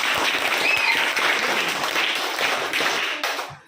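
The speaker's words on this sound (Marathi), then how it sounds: "एकदा जोरदार टाळ्या पहिलीच्या मुलांसाठी" An audience at a school event claps loudly for first-grade children, a thick burst of applause that holds steady and then fades out at the end.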